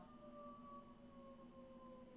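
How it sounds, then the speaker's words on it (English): Distant tornado warning siren wailing with a steady, slowly falling pitch, faint and continuous across the whole stretch with no talking. "Please excuse the tornado sirens."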